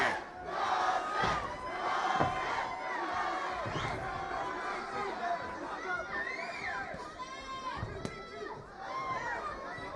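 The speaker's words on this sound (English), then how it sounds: "Large contingent of Arellano fans here cheering him on" Fans at a professional boxing bout between Jose Arellano and Derek Perez cheer and shout continuously from the arena crowd, a loud, roaring mass of voices with whistles and yells throughout.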